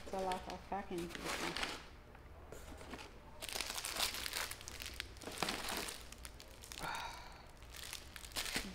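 Packing paper is unpacked and crumpled in a studio, loud close bursts of crinkling and rustling that come and go, with a voice speaking briefly in between.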